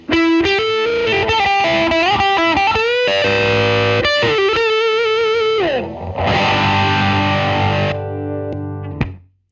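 A distorted electric guitar built from a $35 DIY kit rips through loud, saturated riffs and sustained chords with effects, ending in a brief ringing decay.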